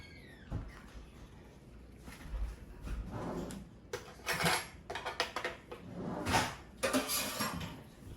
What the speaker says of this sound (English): Stir it in real good